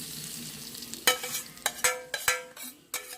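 Tempering sizzling in a pan as it is stirred into bottle gourd moong dal curry, a soft hiss followed by repeated sharp scraping strokes in an uneven rhythm, close and without talk.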